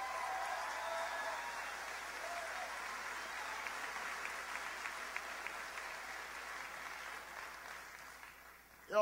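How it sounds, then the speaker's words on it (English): Sustained audience applause at a New Hampshire election-night rally, a thick continuous roar of many hands clapping with crowd noise, steady for about nine seconds before easing off at the end. "Give her a big round of applause."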